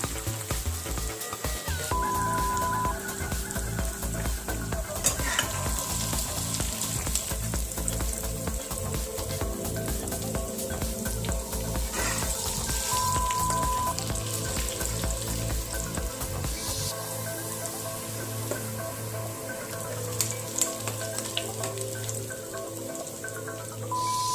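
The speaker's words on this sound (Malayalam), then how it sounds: "ഇനി നമ്മൾക്ക് ഇത് ഒന്ന് വറുത്ത് കോരാം കേട്ടോ" Chicken pieces with red chilli flakes fry in hot oil, giving a loud, dense, continuous sizzle and crackle that stays close and steady the whole time, with no talking.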